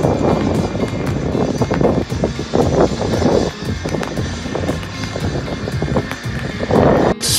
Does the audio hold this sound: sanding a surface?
no